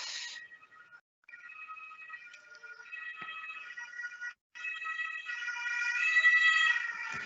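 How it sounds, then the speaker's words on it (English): An emergency siren in Germany wails in rising and falling tones, fairly distant at first, then growing louder and nearer, with a brief break midway. "Here comes another siren."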